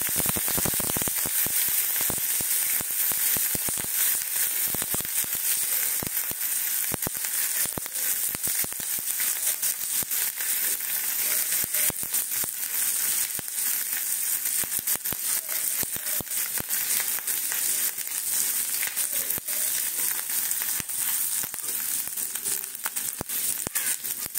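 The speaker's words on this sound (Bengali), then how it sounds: "আদাটা ভাজা হয়ে গেছে" Ginger frying in hot oil in a pan, a steady dense crackle and sizzle with crinkly pops, close and continuous throughout with no voices.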